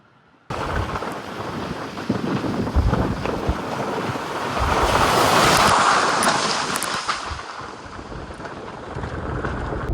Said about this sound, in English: Got the creek running down here.